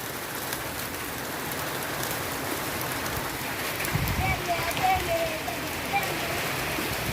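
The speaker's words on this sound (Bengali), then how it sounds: "খুব জোর বৃষ্টি হয়েছে দেখো" Heavy rain pours steadily outside during a stormy spell, a dense continuous hiss of drops on surfaces that swells slightly midway, with no voices over it.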